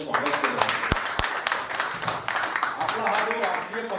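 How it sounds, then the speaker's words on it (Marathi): An audience applauds to welcome guests at a National Journalists' Day gathering, a steady wash of clapping that runs the whole time beneath a speaking voice. "सर्वांनी टाळ्या वाजवून त्यांचं स्वागत केलं"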